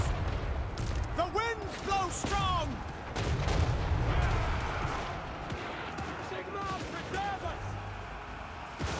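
Battle in the strategy video game Total War: Warhammer III, with sharp cracks of gunfire and booming shots scattered over a rumbling din of fighting, while a voice talks over the action.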